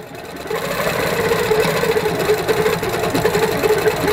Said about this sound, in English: as I turn on the machine. But as I stitch, you see it's just stitching along